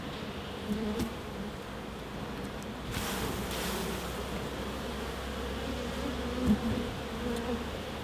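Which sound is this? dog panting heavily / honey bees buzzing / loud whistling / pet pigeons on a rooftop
honey bees buzzing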